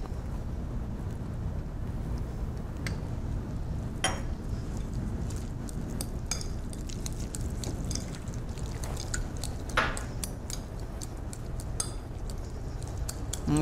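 Blue cheese and heavy cream are stirred together in a bowl, with soft wet mixing under a steady background hiss and occasional light clinks of the utensil against the bowl.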